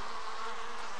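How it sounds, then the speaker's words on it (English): Steady, dense insect buzz of a swarm of bees coming through a ham radio on the moon in an animated cartoon, continuous and fairly loud for the whole second with no speech. "Listen to the bees."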